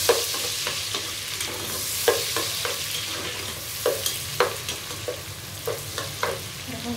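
Onions frying in a pan for a vegetable dish with hilsa fish, a steady close sizzle broken by repeated sharp stirring scrapes, with no talking.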